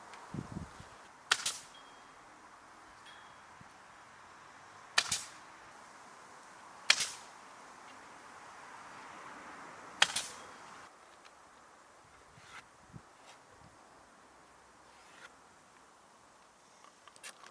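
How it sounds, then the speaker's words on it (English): A small nail gun fires into larch cladding on a gable end, giving four or five sharp, isolated snaps spaced a few seconds apart, followed by fainter taps against a quiet outdoor background. "I'm going to use the little baby nail gun"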